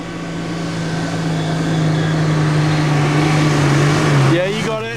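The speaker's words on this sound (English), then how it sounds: "A little bit more pace, keeping the revs up." An off-road vehicle engine revs steadily on a bush track, a loud sustained drone that rises slightly in pitch as it holds the revs, with a voice calling out briefly near the end.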